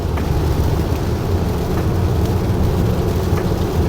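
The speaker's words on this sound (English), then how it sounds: "it's raining and it's slippery" Rain and road noise fill the cabin of a Kia Sorento 2.5 petrol AWD cruising a wet highway at about 90–95 km/h, a loud continuous roar with steady hiss and no talk.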